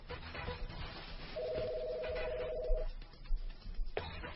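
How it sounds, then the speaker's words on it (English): Office desk phone keypad sending a steady dual-tone dialing signal for about a second and a half, moderately loud over a low background hum and faint room noise, with a few soft clicks afterward. "Dial 4 now, call my cell phone."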